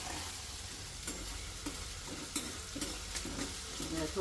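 Onions and tomatoes sauté in a pan for dal fry, a close continuous sizzle broken by scraping stir strokes at irregular intervals, with no voices.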